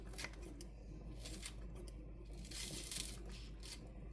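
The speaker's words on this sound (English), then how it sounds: "I decided to get my kitchen shears." Kitchen shears snip green onions in quick, crisp cuts, close and fairly faint, with a handful of sharp clipping bursts spread irregularly over a steady low background hum.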